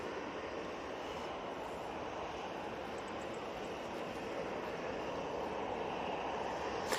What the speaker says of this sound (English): And we have the TUI Dreamliner crossing over to 3 right